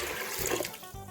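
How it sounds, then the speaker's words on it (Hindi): Water pours steadily into a pot of black chickpea curry, a continuous close splashing rush that tapers slightly near the end. "3 कप पानी,"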